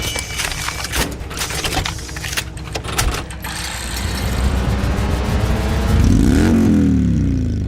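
An Indian motorcycle bagger's air-cooled Thunderstroke V-twin runs loud and close, with rough mechanical clatter that swells into a rising rev toward the end.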